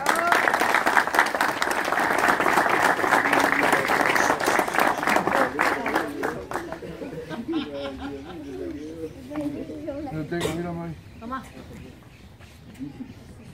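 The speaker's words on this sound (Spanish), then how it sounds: "Muy bien, un aplauso." Applause at a fishing contest anniversary prize announcement, a dense burst of many hands clapping that thins out after about six seconds into scattered claps, with people talking and chattering over it.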